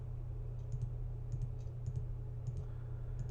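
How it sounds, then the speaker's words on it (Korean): Faint, quick clicks of computer keyboard number keys being pressed in small clusters in Sonar music software, over a steady low background hum. "키보드의 숫자 버튼을 눌러도 변하고요"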